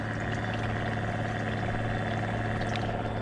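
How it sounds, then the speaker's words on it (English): Water being pumped from a tank into a window-cleaning backpack on a rainy day, a steady, continuous rushing pour with a constant mechanical hum underneath, unchanging throughout and fairly faint. "So I'm just filling up my backpack"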